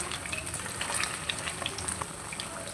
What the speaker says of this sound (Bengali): এই তো আমার চিকেনগুলো ভাজা হয়ে গিয়েছে